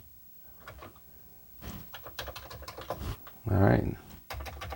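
Commodore 64 keyboard function keys clack in quick irregular bursts, close by, with a louder heavy thump in the middle; a person speaks briefly over the key presses.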